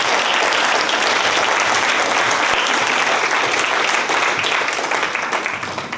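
Loud, dense applause from a room full of trainers at a marketing talk, clapping for a man named Nathan, sustained at full strength before tapering off near the end.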